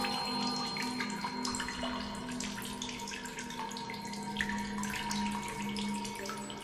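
Water runs steadily from a source in The Solus Project video game, a faint, continuous splashing trickle with scattered drip-like plinks and no voices.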